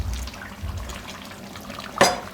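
Water poured into chana dal with soya vadi simmering in a pot, a brief splash at the end after a low background hum, with a faint clink.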